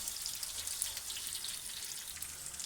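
Beef do pyaza onions browning in a pan give a soft, steady hiss of sizzling and crackling that runs through the whole stretch at a moderate, close level.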